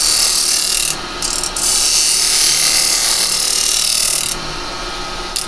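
Carbide detail chisel cutting wood on a lathe, a loud continuous hissing scrape with the spinning workpiece, briefly easing twice as the tool lifts off.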